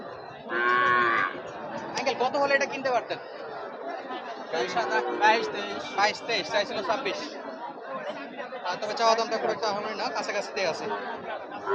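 A cow moos once near the start at a Bangladeshi cattle market by the Indian border, then overlapping voices chatter and bargain over each other for the rest, a busy crowded scene.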